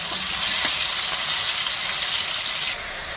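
Prawns fry in hot coconut oil with curry leaves in a pan, giving a loud, steady broadband sizzle and hiss that drops slightly in level near the end.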